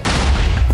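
Rapid gunfire in a Minecraft mod game aimed at a dragon, a loud, dense burst of shots filling the whole moment with booming low end.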